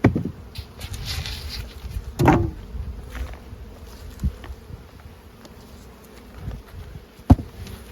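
Honey bees buzz around a hive, some flying in at the top and some at the bottom, a faint steady drone with occasional close fly-bys and a few knocks and taps.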